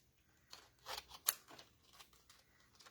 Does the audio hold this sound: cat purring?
no